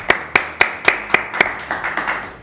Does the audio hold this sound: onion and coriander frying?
no